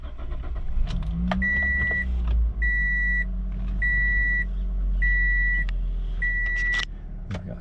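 A 2005 Pontiac Vibe GT cranks and its engine settles into a low steady idle, close by, while a repeating electronic chime beeps in regular pairs above it and a few clicks sound near the end.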